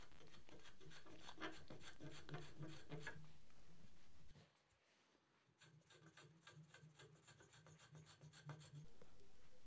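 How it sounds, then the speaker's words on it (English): A spokeshave shaves a wooden skeleton arm clamped in a vise, with rhythmic rasping strokes up close, then a short quiet pause and more scraping passes. "Arm 2 is in the vise for some spoke shave treatment."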